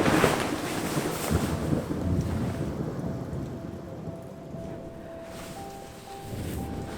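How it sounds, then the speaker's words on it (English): A thunderstorm with steady rain, loud rumbling thunder rolling in at the start and again near the end, with constant rain hiss and some wind buffeting on the microphone between. "Looks like it's gonna storm."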